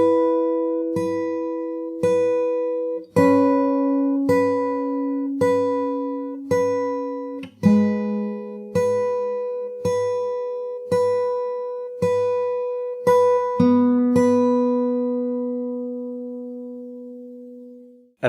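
Guitar plays a full riff from the start, a steady run of plucked single notes ringing over each other at an even pulse, close and clear, ending on a long sustained note.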